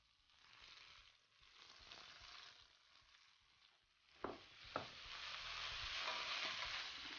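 Sliced young kale goes into a pan of softened onion and garlic and fries quietly, with a faint steady sizzle, a couple of sharp clinks of a utensil, then a louder hiss.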